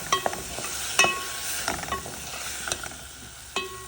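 Tomato, onion and ginger sauté in a little olive oil, giving a soft sizzle under a series of sharp scraping and clinking stirs from a utensil against the pan.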